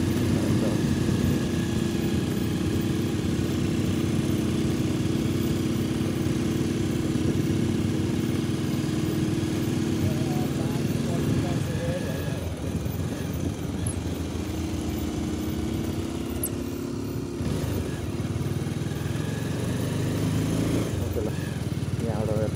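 A motorcycle engine drones steadily while riding, loud and close with a constant low hum that shifts partway through, and voices talk over it.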